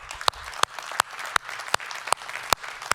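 An audience claps at the close of a talk on network automation, with steady rhythmic clapping and a few sharp, distinct claps standing out over a softer spread of hands.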